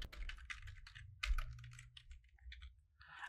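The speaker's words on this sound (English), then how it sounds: "just type your password" Password being typed on a computer keyboard in a Windows setup: a quick run of light plastic key clicks, close and fairly quiet, with a few louder taps and short pauses between bursts, no talking.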